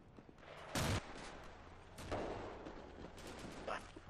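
Gunfire in the World War II shooter Darkest Hour: Europe '44-'45 during Operation Veritable, with several sharp bursts and distant shots over a steady battlefield rumble, and faint voices in the background.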